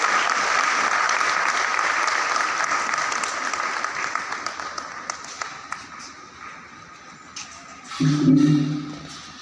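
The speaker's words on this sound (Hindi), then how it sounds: "सभी साथियों से मैं निवेदन करूंगा जोरदार तालियों के साथ इसका स्वागत कीजिए।" A hall full of delegates at a state-level OBC front conference in Chhattisgarh gives loud, sustained applause to welcome the presiding speaker; the clapping thins out and fades, and then a voice begins speaking close to the microphone.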